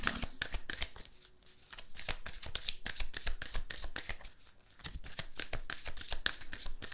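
A Goddess Guidance oracle card deck being shuffled, a rapid, continuous riffle of crisp card flutters, close and fairly loud, with a short pause partway through.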